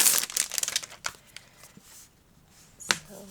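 Pages of a sticker book are flipped and handled at close range, giving a quick run of crisp crinkling and snapping rustles, then quieter paper shuffling and one sharp flick near the end.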